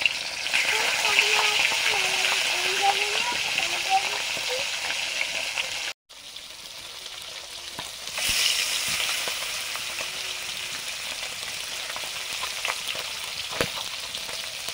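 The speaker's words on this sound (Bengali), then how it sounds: "প্রথমে কাতলা মাছের মুড়োগুলো ভেজে নিচ্ছি।" Loud, continuous sizzling and crackling of catla fish heads frying in hot mustard oil, briefly cutting out midway, with a faint voice murmuring underneath.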